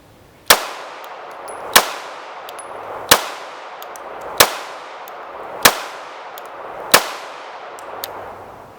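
A CZ P10c ported pistol fires six evenly spaced shots outdoors, each a loud sharp crack followed by a ringing decay, roughly one round every second and a quarter.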